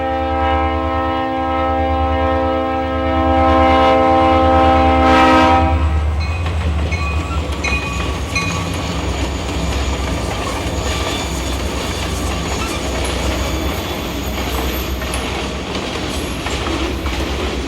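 A freight train on the former Guilford rail line blows a loud sustained horn, then rumbles steadily past with a deep low drone and rolling wheel noise that continues for many seconds.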